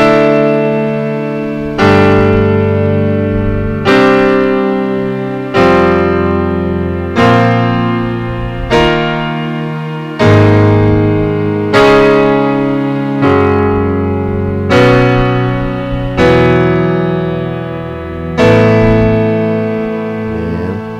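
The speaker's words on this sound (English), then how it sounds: "So now let's try to do a major 2 chord, okay, which would sound like this." Gospel piano repeating a major 2 chord, about nine sustained harmonic voicings struck every couple of seconds in a steady rhythm, each ringing and decaying before the next, loud and close with no talking.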